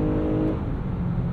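A Lexus RX 350 F Sport kicks down a gear under acceleration, its engine note droning loud and close with a steady tone that shifts partway through the brief burst.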